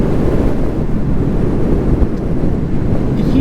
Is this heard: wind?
yes